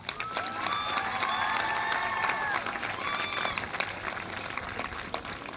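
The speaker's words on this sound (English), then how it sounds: "give your parents a round of applause" Sustained applause from a crowd at a school promotion ceremony, steady clapping throughout with a few cheers and whistles rising above it.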